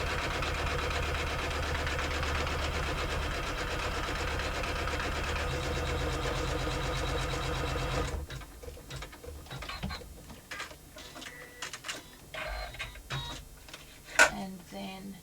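An embroidery machine stitches an in-the-hoop wallet with a steady, close mechanical whir and rhythmic needle clatter for about eight seconds, then stops, leaving scattered clicks and handling noises with a sharp tap near the end.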